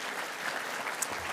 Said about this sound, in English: there's a little bit of a round of applause.